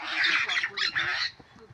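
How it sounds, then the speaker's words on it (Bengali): A pair of birds gives harsh squawking calls in several quick bursts, fairly loud, fading out toward the end. "পাখির গুঞ্জন শুনতে পাচ্ছেন আপনারা?"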